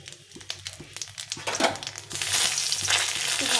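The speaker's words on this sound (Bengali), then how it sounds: "একটা লঙ্কা, তেজপাতা দিয়ে আমি বেশ কিছুটা কালো জিরে দিয়ে দেবো" Chili, bay leaf and a generous amount of nigella seeds sizzle and crackle in hot oil in a heated wok, with sharp pops at first building into a loud, steady frying hiss, close up and without voices.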